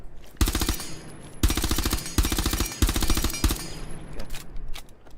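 SMG12 submachine gun fire in Rainbow Six Siege, four loud rapid automatic bursts of about a second each separated by short pauses, followed by a few scattered quieter shots.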